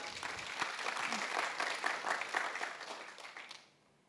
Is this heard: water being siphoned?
no